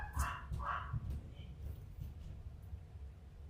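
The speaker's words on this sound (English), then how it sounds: "My dog is barking because she wants food." A pet dog barks for food in a home, with a few sharp barks near the start over a low indoor hum.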